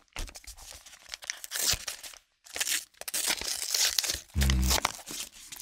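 A paper mail envelope, a credit card notice, is torn open up close, with loud ripping bursts and crinkling paper broken by a brief pause.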